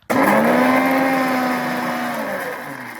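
Mixer grinder blitzing biscuits into powder, starting abruptly with a loud whirring motor whine that holds a steady pitch and eases slightly toward the end, close and alone.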